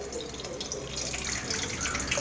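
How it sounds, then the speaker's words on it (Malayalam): Water is poured and runs steadily while ingredients for a Chiravakka parippu curry are washed in a village kitchen, a continuous close splashing with a few drips throughout. "നല്ലോണം വെള്ളമൊക്കെ ഒഴിച്ച് കഴുകിയെടുക്കുക"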